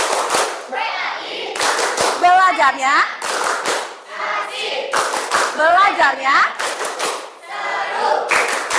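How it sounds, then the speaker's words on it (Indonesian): Students in an Islamic religious education class clap in a patterned rhythmic chant, crisp bursts of claps alternating with short chanted phrases from the children and the teacher's voice. "Tepuk tangan dong"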